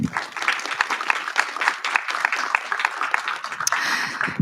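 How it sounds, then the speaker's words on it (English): Audience applause fills a convocation hall at a Black History Month event, a dense, steady patter of many clapping hands held at an even level for several seconds, with a few voices faintly under it. "Can we get one more round of applause for the video?"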